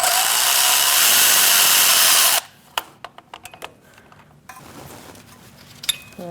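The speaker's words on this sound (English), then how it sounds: "I'm using a 13mm socket to do that, and an extension" A 13mm socket on an extension removes the ground strap bolt below the starter of a 2016-2019 Chevrolet Cruze 1.4L: a loud, continuous tool whir that stops abruptly, then scattered metallic clicks and taps close by.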